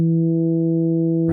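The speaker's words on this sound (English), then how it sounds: "we're frequency modulating that sine wave with another sine wave" A steady FM synth tone from Ableton Operator, one sine wave frequency-modulated by another, holds as a bright harmonic drone for just over a second with no talk.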